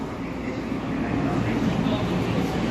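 A Keihan Railway train standing at Yodoyabashi station, heard as a low rumbling, humming platform ambience with steady mechanical drone, fairly close and continuous.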